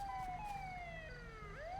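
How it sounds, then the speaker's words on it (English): An ambulance siren wails in a steady, fairly faint tone that slides slowly downward and then sweeps back up, with no voices over it. "Ambulance sounds"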